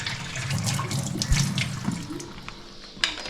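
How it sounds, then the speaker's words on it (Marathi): Water runs steadily from a kitchen tap while crabs are washed clean for an Agri Koli style stuffed crab curry, with light splashing and the clatter of handling under the flow. "अशी घाण काढायला लागतं आणि ही पूर्ण धुवून घ्यायची"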